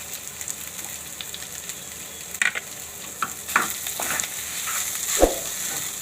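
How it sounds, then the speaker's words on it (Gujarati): A semolina and potato snack mixture seasoned with coriander and salt stirred in a pan, a soft sizzle beneath a few sharp utensil clinks and scrapes against the pan, close by with no speech. "હવે બધું મિક્સ કરી લેવું।"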